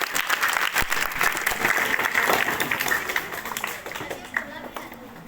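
An audience at a school Iqbal Day assembly claps to welcome a speaker to the stage, a dense burst of applause that swells, holds, then thins out over several seconds, with some voices mixed in.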